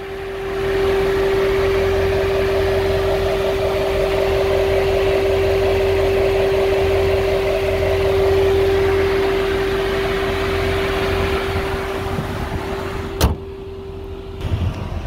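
A car engine runs steadily with a strong constant hum and rumble, close and loud, holding for most of the stretch before easing off near the end with a brief click, no talk.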